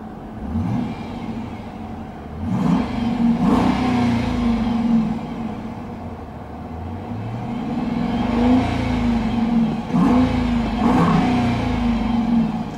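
A 2013 Dodge Durango R/T engine revs several times, rising and falling through the rpm range from a steady idle, with a deep mid-pitched hum and a whirring tone, heard close with no speech.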